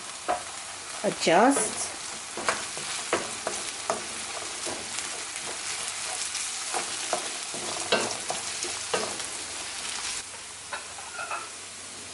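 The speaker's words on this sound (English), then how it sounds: "I'm adding about 6 chili peppers" About six chili peppers fry in a pan for samosa filling, crackling and sizzling close by with repeated stirring clacks, and a brief word spoken partway through.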